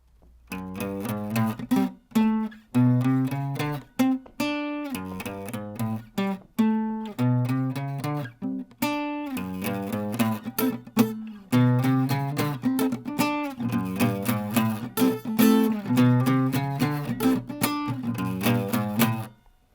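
A funky, syncopated electric guitar riff, with choppy repeated notes and short gaps, running steadily for the whole stretch.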